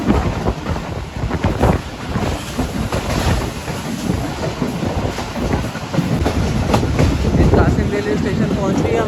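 Bolan Mail passenger train on a main line railway track, a steady loud rumble with clickety-clack wheel beats running throughout and no pauses.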